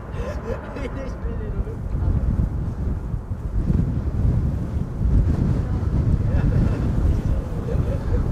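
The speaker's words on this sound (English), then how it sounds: "Wind is picking up, definitely not slowing down here." Strong wind buffets the microphone at Amsterdam Schiphol Airport, a loud, low, gusting rumble that swells and eases in waves, with a person talking through it.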